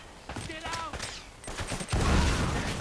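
Enemy gunfire in Uncharted: Drake's Fortune crackles in scattered shots and bursts from several shooters, mixed with other game effects and growing into a loud, dense rumble of fire near the end.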